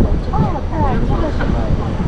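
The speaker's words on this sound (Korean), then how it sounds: "지금도 바람이 엄청나게 부는데" Strong wind blowing across a boat on the Yangtze River at night, a loud, rumbling buffet against the microphone with a voice talking over it.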